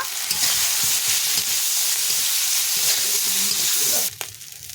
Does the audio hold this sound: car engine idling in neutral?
no